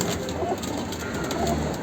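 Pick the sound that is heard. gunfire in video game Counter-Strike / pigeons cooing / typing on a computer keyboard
pigeons cooing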